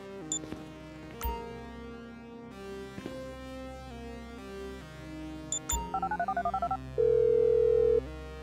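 Phone keypad tones beep in a quick series inside the GTA V video game, followed by a steady dial-tone-like hum, with soft clicks and a low background rumble, no talking.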